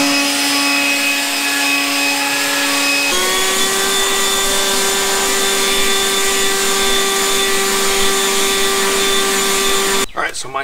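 A Toro 60V battery-powered lawn tool runs on turbo with a loud, steady electric whine. Its pitch steps up partway through, and it cuts off with a brief rattle at the end.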